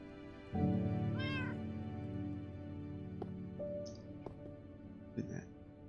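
A Minecraft cat gives a clear, close meow that rises and falls, followed by faint game clicks and a brief second cat sound near the end, all with no talking.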